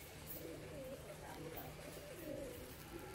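A pigeon coos quietly in the background, low rolling calls repeating under faint talk in a loft where birds are being handled.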